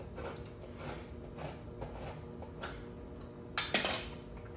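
A can of cherries being opened in a home kitchen, with faint metallic clinks and scraping over a low background hum and a slightly sharper clatter near the end.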